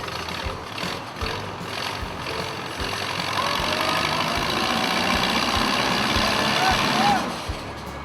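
Oliver 660 antique tractor at a county fair pull, its engine droning steadily as it drags a 6,500-pound weight, growing louder and strained toward the end, with a crowd and talk in the background.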